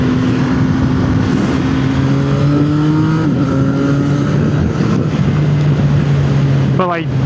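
Motorcycle ridden hard through corners, a loud steady engine drone shifting pitch as the bike pushes through bends, over constant wind rush, with a quick rising rev at the end.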